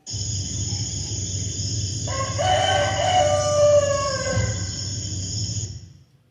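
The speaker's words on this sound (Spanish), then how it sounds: "Y el gallo cantó la segunda vez." A rooster crows loudly and close, one long drawn-out cock-a-doodle-doo rising and then trailing off, heard alone with no voices.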